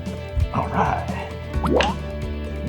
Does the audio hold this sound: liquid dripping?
yes